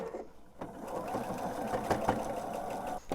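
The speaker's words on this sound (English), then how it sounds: "So now what I'm going to do is sew the length of the seam" A sewing machine stitches the length of a table runner seam, running in a steady fast mechanical whir with a rhythmic clatter, fairly close, and no talk over it.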